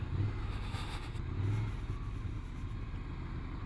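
Ducati Scrambler Desert Sled motorcycle riding in first gear, its engine a faint, steady low drone with a slight rise in revs, heard alone without talk.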